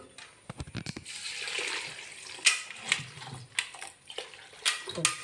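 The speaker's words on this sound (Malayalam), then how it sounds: "കപ്പയും കടലയും വേറെ വേറെ വെള്ളത്തിലിട്ട് കഴുകി വാരി" Tapioca and chickpeas being washed in separate pots of water, with sloshing and splashing in bursts and several sharp clatters, close by over a few seconds.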